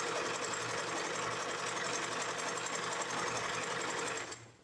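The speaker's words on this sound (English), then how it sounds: "On this project, you have a lot of fun with the sewing machine" A sewing machine runs steadily, stitching seams on fabric for a craft project, its fast even whir continuing at a constant pace before stopping abruptly at the end.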